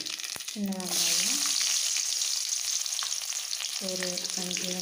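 Shallots crackle and sizzle steadily as they fry in oil in a pan after mustard seeds pop, for a fenugreek curry, with a continuous hiss throughout and brief tonal squeaks at the start and end.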